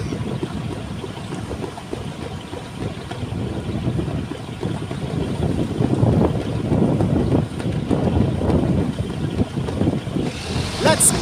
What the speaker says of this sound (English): Fast it's spinning, not even seeing the propeller spin.